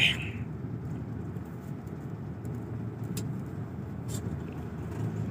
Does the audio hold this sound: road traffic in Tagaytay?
yes